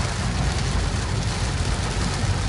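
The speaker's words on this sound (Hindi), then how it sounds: "बहुत भयंकर वाली बारिश हो रही है।" Heavy rain pours down in Uttar Pradesh in a dense, steady hiss that continues without a break, with no talking.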